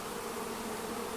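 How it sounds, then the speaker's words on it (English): Honey bees swarm over crowded frames in a healthy colony in the Ozarks, a steady, dense buzzing hum filling the space close by without pause. "All these frames are full of bees."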